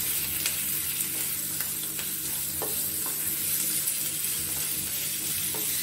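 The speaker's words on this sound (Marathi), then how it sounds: "कांदा परतून घेऊ" Onion being sautéed in a pan for pasta, with a continuous sizzle and hiss and a few faint spatula taps and scrapes over it.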